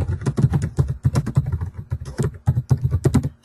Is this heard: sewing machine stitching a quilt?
no